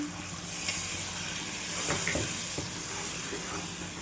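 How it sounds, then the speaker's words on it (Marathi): Water poured into roasted masala in a hot pan for a traditional patvadi gravy, giving a soft, steady sizzle and hiss at low level with a few faint clinks, no voices. "हेच पाणी टाकून घेते."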